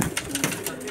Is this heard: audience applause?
no